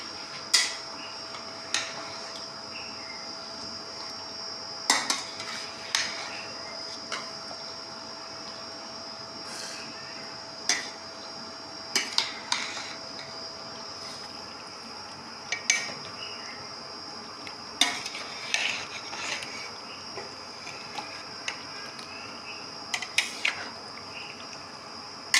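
A spoon stirs and scrapes food in a metal pot while dahi bhalle are being made, giving repeated clinks and knocks at irregular intervals over a quiet, steady background hum.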